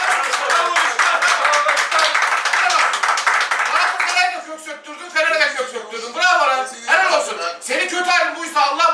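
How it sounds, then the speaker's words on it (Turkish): Dense clapping from a stadium crowd at a Fenerbahçe–Beşiktaş football match fills the first few seconds, then gives way to someone talking excitedly. "Evet Beşiktaş alkışlayalım arkadaşlar."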